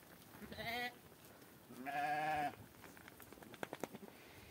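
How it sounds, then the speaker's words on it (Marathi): Goat bleating in two drawn-out, wavering calls, close and clear, while it climbs a tree to eat leaves; a scatter of short knocks and rustles follows. "हे बघा शेळी कशी चढून खाती झाडावर"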